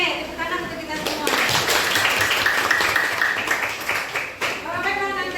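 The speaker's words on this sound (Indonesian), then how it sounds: "Oke, tepuk tangan untuk kita semua." Teachers at SMA Negeri 9 Padang clap together in a classroom, a dense, loud burst of applause lasting a few seconds, with talking just before and after.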